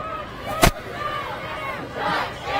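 A crowd of protesters moving down a city street, a steady broad murmur of many voices and footsteps with one sharp loud bang early on and swelling shouts near the end.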